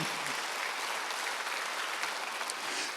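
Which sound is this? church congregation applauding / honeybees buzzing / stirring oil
church congregation applauding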